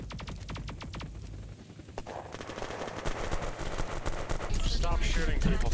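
Rapid gunfire from the video game Unturned rattles in fast bursts, loud and close, then gives way to denser, continuous shooting and background noise.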